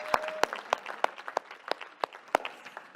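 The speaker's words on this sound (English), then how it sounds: "Another round of applause" At a closing plenary session on economic justice, sparse applause rises: a handful of distinct, sharp claps land at a loose, uneven rhythm over a soft background murmur.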